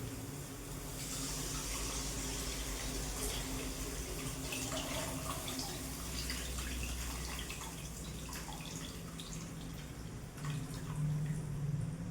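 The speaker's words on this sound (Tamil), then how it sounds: "இப்போ நான் வடிகட்டி வச்சிருக்கிற புளி தண்ணி ஊற்றிக்கிறேன்." Strained tamarind water pouring steadily into a pot for fish curry, a continuous splashing trickle at moderate level, ending with a slight bump.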